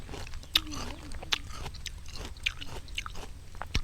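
Biting and crunching crispy pickled mixed fruit with vegetables, eaten outdoors in a rubber plantation: several sharp, close crunchy bites followed by steady chewing, with a faint voice murmuring in between.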